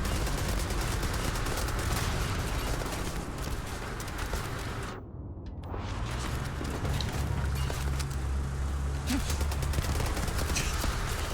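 An AA-105 rifle fires in Starfield, a steady stream of rapid shots that stops briefly near the middle and then resumes, loud and continuous, over a low rumble.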